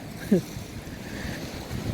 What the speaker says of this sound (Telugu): ఇదిగోండి గాలి ఎలాగేస్తుందో చూడండి చాలా చల్లగా ఉంది గాలి